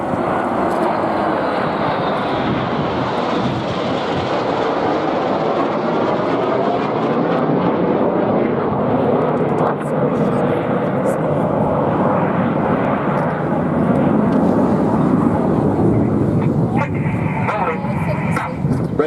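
Red Arrows jet aircraft fly an aerobatic display at Portrush, making a continuous loud, broad roar that holds steady throughout, with a commentator talking over it.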